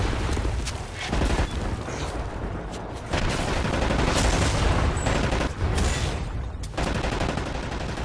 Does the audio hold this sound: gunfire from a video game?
yes